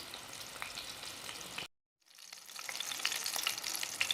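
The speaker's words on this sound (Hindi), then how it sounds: "हल्की आंच पे इसको फ्राई करेंगे, फिर अच्छी तरह से गल जाए।" Chicken pieces for a zinger burger frying in oil over low heat, a steady soft sizzle that cuts out briefly for a moment, then resumes with crackling pops.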